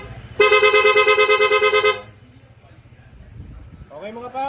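A Honda PCX160 scooter's horn set to rapid mode blares loud and close for about a second and a half, then cuts to a low idling rumble, with a brief voice rising at the very end.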